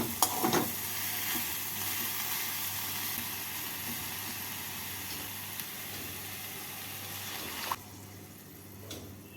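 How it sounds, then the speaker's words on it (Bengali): Bottle gourd greens sizzle and fry in a pan while being stirred, with boiled pea dal added; a steady close hiss runs throughout with a few clinks and scrapes of the spoon. "ঢাকা খুলে লাউ ডবাগুলোকে নাড়াচাড়া করে এর মধ্যে সেদ্ধ করে রাখা ডালটা দিয়ে দেবো"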